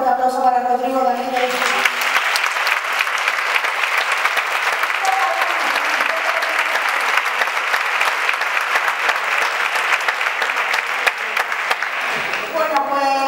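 A theatre audience gives steady, sustained applause for a performer at a concert, broad and even for several seconds. A voice speaks briefly at the start and again at the end.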